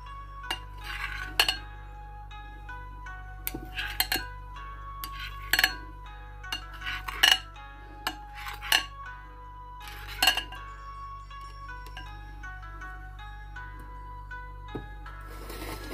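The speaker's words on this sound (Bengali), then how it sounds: "আমি এটাকে এখন পিস পিস করে কেটে নেব" A knife cuts set custard jelly into long strips on a plate, giving a scattered series of light clinks and taps against the dish, close and fairly quiet, with silent gaps between strokes.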